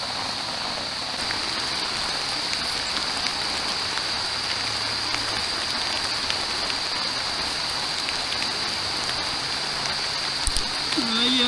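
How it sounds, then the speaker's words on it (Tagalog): Heavy rain falling steadily on a campsite during solo overnight camping, a constant hiss with a faint high tone, and a voice briefly speaking over it. "Inabutan na po tayo ng ulan dito."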